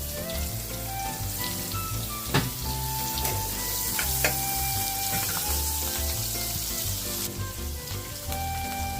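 Green chillies and peas sizzle steadily in a hot pan for Kathiawadi olo, a continuous frying crackle with a few sharp pops and clinks of stirring, close and fairly loud, no talk.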